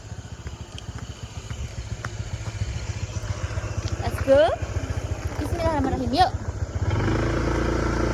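Motorcycle starting off and riding away toward a dam at dusk: a steady, close engine putter that swells into a louder, rougher roar as it pulls away, with someone speaking briefly over it.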